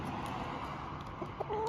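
Chickens cluck softly near a farm's chicken coop, a few faint scattered calls over a low steady outdoor background, heard from some distance.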